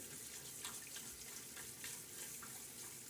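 Water from a tap runs over a shaving brush being rinsed at a sink, a steady, soft hiss and splatter that continues throughout with small splashing bursts.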